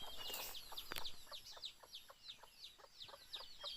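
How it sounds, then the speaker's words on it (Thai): Chickens in a durian orchard cluck and call in short repeated bursts at moderate distance, with sharp bird chirps layered over a steady outdoor background. "มีไก่อยู่ด้วยนะครับ"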